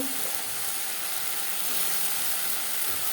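Masala for a potato and puti fish curry frying in a pan gives a steady, close sizzling hiss that holds evenly throughout, with no talking.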